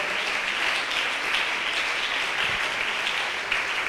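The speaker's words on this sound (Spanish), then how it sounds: "Alguien que le dé un aplauso fuerte a la gloria de Dios." A church congregation claps loudly together, dense and continuous applause filling the room throughout without pause.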